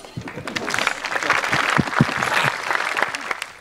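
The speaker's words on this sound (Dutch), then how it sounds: "Leuk, applaus." Audience applause at a local revue show in Gennep, a thick, lively wash of clapping that swells toward the middle and stays loud, with voices mixed in underneath.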